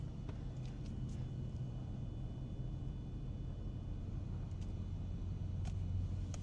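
Low, steady rumble of a four-wheel-drive vehicle's engine while driving through a North Carolina blizzard, a muffled drone heard from inside the cab, with faint intermittent clicks.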